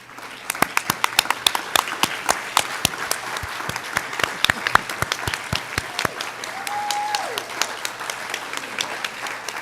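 Scattered hands clap in sharp, uneven bursts that thin out after a few seconds at a high school hall of fame induction, followed by a brief rising whistle-like tone.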